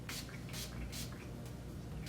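A spray bottle of 70% alcohol mists onto makeup in several short bursts, about four or five quick, close hissing puffs spaced roughly half a second apart over a faint steady background.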